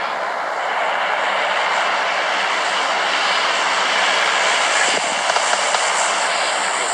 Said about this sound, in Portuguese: Ó, barulho de avião.